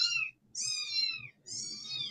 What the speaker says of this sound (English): kittens that were born on the 8th of March. And right now, they are being very vocal